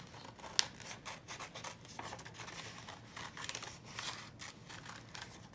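Scissors snip through paper during a children's art craft, a quiet series of soft crisp cuts and rustles with one sharper snip near the start, no voices.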